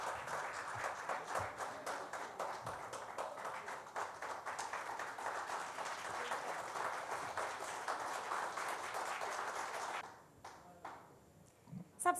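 Loud, sustained applause from a live audience welcoming a guest onto the stage of a Bihar political talk show, steady clapping for about ten seconds before it thins into a few scattered claps and quiet.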